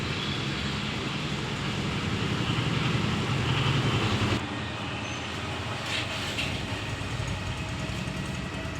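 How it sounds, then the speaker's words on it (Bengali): Road traffic passes on the street in front of a house as a continuous low rumble of engines, louder for the first few seconds and then easing to a steadier, quieter drone. "এই যে আমাদের বাড়ির সামনেই রাস্তা সারাদিন গাড়ির আওয়াজ হয়"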